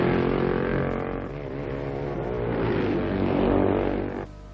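A 1960s Isle of Man TT racing motorcycle, likely an MV, its engine droning loudly and steadily with a shifting, rising-and-falling pitch as it runs, then dropping off abruptly near the end.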